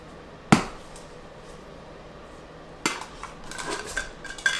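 Plastic cups handled on a table during a hydroponic deep water culture setup, giving two sharp clattering knocks a couple of seconds apart and then a run of lighter taps and rattles, close and fairly quiet.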